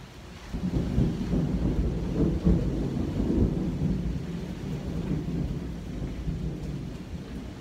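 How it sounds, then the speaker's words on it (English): Deep rolling thunder rumbles through steady rain, swelling early and then fading slowly into a low, continuous storm hiss. "With thunder."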